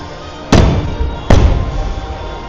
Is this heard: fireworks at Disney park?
yes